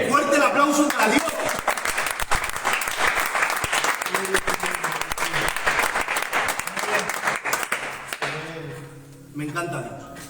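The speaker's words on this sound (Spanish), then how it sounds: "Fuerte el aplauso para Dios." A church congregation breaks into loud, sustained applause, dense clapping filling the room for several seconds before fading out near the end, with voices mixed into the clapping.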